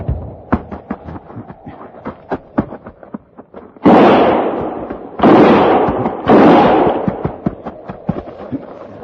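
Gunfire effect in an old radio drama: a rapid string of sharp close pops, then three long roaring blasts, each sustained for over a second, loud and without voices.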